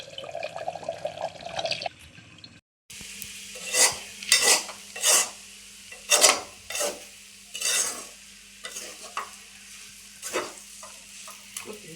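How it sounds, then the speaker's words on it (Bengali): Vegetable curry frying in a pan, with an earlier stretch of running water or sizzle giving way to a series of loud, scraping stirs that rise and fall in rhythm over a steady low sizzle, with no one speaking. "আর তরকারি দিয়েছি ভেজে রান্না হয়েছে"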